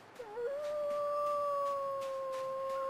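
A wolf in the survival game The Long Dark lets out a long, clear howl that rises, then holds a steady, slowly falling tone, close and loud against a quiet background with faint rhythmic footsteps.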